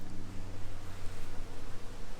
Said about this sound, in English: She could be in that big pile of bees right there.